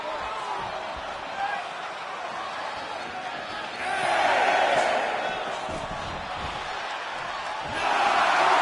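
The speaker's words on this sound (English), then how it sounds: "This capacity crowd is sending him love." Arena crowd in the WWE 2K25 video game, a steady roar that swells twice into louder cheering bursts, with a commentator speaking over it.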